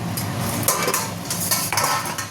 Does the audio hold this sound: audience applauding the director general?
no